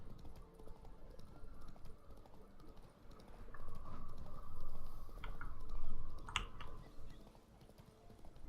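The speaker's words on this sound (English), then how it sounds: "Whoa there, Roach." Horse hooves clip-clop across the ground in the video game The Witcher 3, a soft, steady plodding rhythm set low in a rumbling ambient game soundscape, fairly faint and with no talking.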